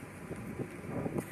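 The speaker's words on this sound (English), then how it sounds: "Wind's not helping the frames." Gusty wind buffets a microphone on a bricklaying building site, a low, steady rumble with soft surges and no speech.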